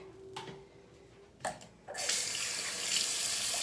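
Bathroom sink tap water running over hair, starting with a couple of faint splashes and knocks before a steady, close, hissing stream takes over and continues to the end, with no talking.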